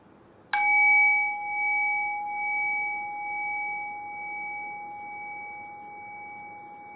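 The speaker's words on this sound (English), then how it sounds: "I'll ring the sound of the bell one more time. Allow the decay of the bell to guide your awareness into silence." A meditation bell is struck once, giving a clear, bright ring that sustains and slowly fades over several seconds into near silence.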